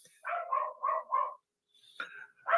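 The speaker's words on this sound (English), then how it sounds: "You'll hear more from the dog." A dog barks close by in a quick run of four sharp barks, pauses briefly, then gives a higher yelp followed by another bark.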